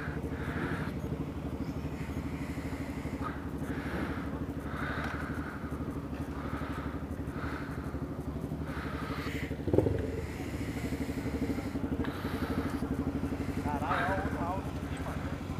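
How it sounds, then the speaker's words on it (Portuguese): Motorcycles and fast cars pass by while leaving the Serra Azul area. There is a steady engine rumble and several revs, with talk going on over the traffic throughout. "Lotado de moto."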